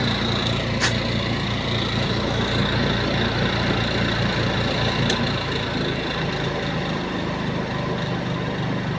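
A 500-watt washing machine motor refitted to serve as a dryer motor runs continuously, a steady low hum and whir at even loudness with a couple of faint clicks, no talk.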